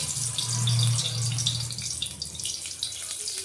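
Brahmi leaf fritters sizzle in very hot oil that was just used for frying pointed gourd, a steady close hiss and crackle with a low hum, no voices.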